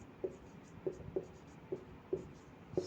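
Pen or chalk strokes on a writing surface during a Hindi-medium class 12 physics lesson on electric charge, six short separate taps and scratches spaced irregularly, fairly close and quiet, with no talking.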